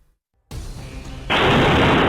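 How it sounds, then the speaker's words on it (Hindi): Crude bombs explode in Prayagraj: a loud blast erupts after a moment of silence, followed by a second, harsher burst that keeps roaring and rumbling until the end. "पहला धमाका, दूसरा धमाका, तीसरा धमाका।"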